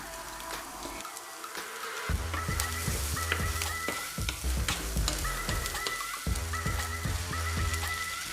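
Chopped garlic and green pepper hitting a hot pan for Cuban picadillo, a crackling sizzle that swells after a brief lull, with scattered stirring clinks and taps throughout.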